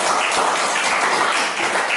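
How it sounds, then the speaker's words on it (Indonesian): Applause for Windy from a classroom group, a dense, even patter of many hands clapping at once that holds steady for the whole stretch, loud and close with no talk over it. "tepuk tangan dulu untuk Windy ya"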